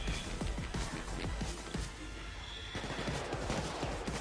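Bursts of rapid gunfire in the video game Payday 2, sharp repeated shots in dense clusters over constant game background noise, with a brief pause midway.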